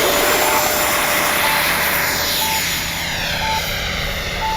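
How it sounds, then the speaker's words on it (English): An FMS 70mm F-18 RC jet flies with a steady, loud, high-pitched ducted-fan whine and airy rush, fairly close and continuous with no voices. "The plane has a great sound to it."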